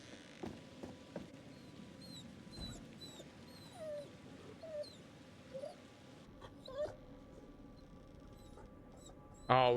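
A dog in the horror game The Devil in Me whimpers and squeaks in thin, high whines amid scratchy pattering and rustling game ambience, fairly faint, ending in a louder burst of sound.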